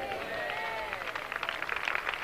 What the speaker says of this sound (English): Keep clapping if you know you are a conqueror.